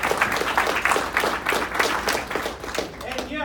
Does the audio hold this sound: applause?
yes